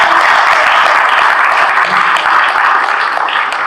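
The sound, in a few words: audience applause for the IREX team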